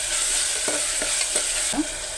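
Onion, ginger-garlic paste and salt fry in a pan, a steady close hiss broken by a few scraping strokes of a stirring spoon, with no speech.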